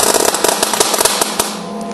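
An Eastwood MIG welder, used by a beginner, pops and crackles loudly and close, with rapid irregular sparking bursts throughout the weld.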